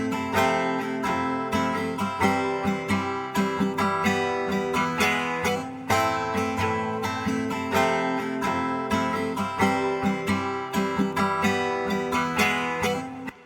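Country-style guitar chords strummed in a steady rhythm, full and upfront, with a dense layered musical texture and no voices.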